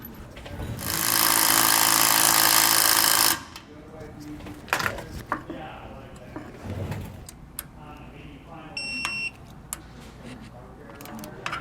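A torque wrench tightening a bolt while installing a Roadmaster rear anti-sway bar on a 2018 Forest River: a loud sustained ratcheting burst, then scattered metallic clicks and tool handling.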